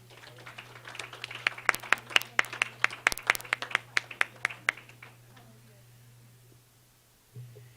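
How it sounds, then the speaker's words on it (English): A small audience claps at a school board of education meeting, a spread of distinct sharp hand claps in quick irregular rhythm that thins out and stops, followed by near silence and a brief bump of noise. "Another round of applause for Robbie Miller."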